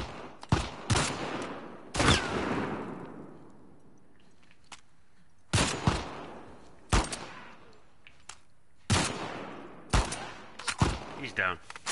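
Gunfire in The Last of Us Part II, loud sharp shots in short bursts and singles with pauses between, some echoing off, and no speech over them.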